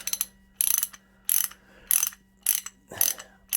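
A Walden USA Classic half-inch drive pear head ratchet clicks close up in six crisp, evenly spaced bursts of rapid pawl clicks, with quiet pauses between each swing.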